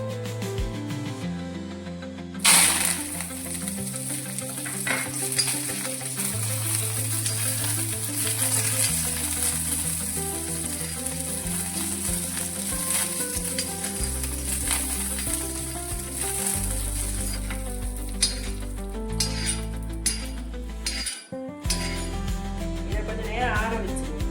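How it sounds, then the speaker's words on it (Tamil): Sesame seeds and curry leaves dry-roasting in a pan for idli and dosa podi, a continuous close sizzle and crackle broken by stirring scrapes, with a brief pause before the crackle resumes. "எள்ள போட்டு நல்லா வறுத்து எடுத்துக்கணும்"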